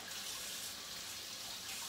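Cold water runs from a hot-water tap in a steady, unbroken hissing stream, fairly faint and heard alone.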